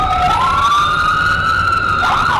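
A loud, close emergency vehicle siren wails steadily in Vancouver, a fire engine or ambulance sounding a sustained rising and falling tone that shifts pitch near the end.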